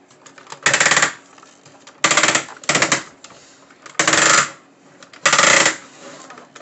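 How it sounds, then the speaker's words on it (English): Loud ratcheting clicks from a Transformers Siege Titan-class Omega Supreme toy robot's joints sound in five separate short bursts, each a fast rattling run of plastic clicks, close by with quiet gaps between. "he has really loud ratchets"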